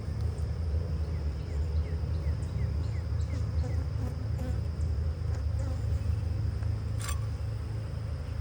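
Dense, steady buzzing of many honey bees swarming around an open hive during an inspection, an agitated drone that fills the whole stretch at close range with no break.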